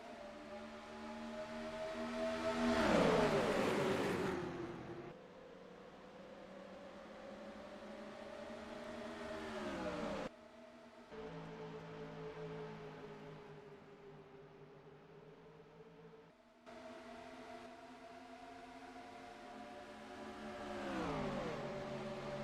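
Race cars in a Cars World Grand Prix video game, engines whining and revving continuously, pitch rising and falling as the cars accelerate, with a loud surge early on and brief cuts in the sound.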